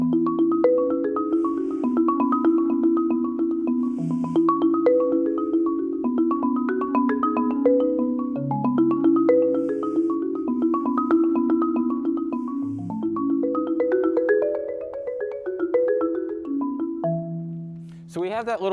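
Pitched percussion plays the opening of a piece, a flowing chorale-like line of ringing, decaying notes that move steadily through changing pitches at moderate volume, alone, ending with a few lower held tones.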